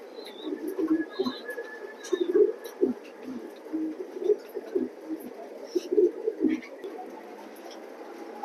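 Racing pigeons coo repeatedly in a loft, soft throaty calls rising and falling close by, with a few higher chirps and wing flutters in between.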